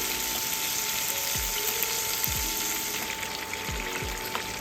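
Short ribs sear loudly in a hot pan for polenta with pomegranate short ribs, a steady dense sizzle with a few brief scraping stirs or pieces being moved, close and continuous without talk.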